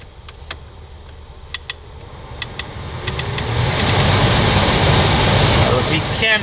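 The blower motor fan in a Toyota Prius is turned up, its steady whoosh swelling over a few seconds from a quiet hum into a loud, even rush of air, with a few faint ticks early on.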